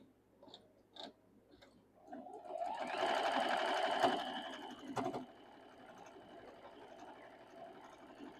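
A sewing machine runs a quick burst of stitching along a quilt block seam joining fabric squares. A few light clicks come first, then a loud whirring run of about two seconds that tapers off into quiet mechanical ticking.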